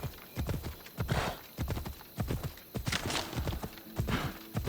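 A horse gallops in Assassin's Creed Odyssey, loud rhythmic hoofbeats pounding in quick repeated bursts, with a faint whinny and little other sound.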